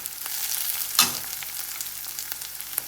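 Onion sautés in a pan for a coconut milk fish curry, hissing with a continuous close sizzle. A single brief scrape of stirring rises near the start.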